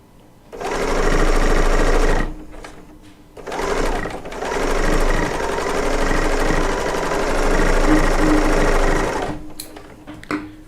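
Serger sewing machine with all the features running at speed in quilting work, a close, loud, steady mechanical whir in several long runs separated by short pauses.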